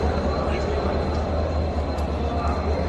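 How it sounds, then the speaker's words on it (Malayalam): Platform ambience at Srinagar railway station in Kashmir: a constant, fairly loud wash of low rumble and hum, with murmuring voices blended into the background. "ഞാനിപ്പോൾ ഉള്ളത് ശ്രീനഗർ റെയിൽവേ സ്റ്റേഷനിലാണ്."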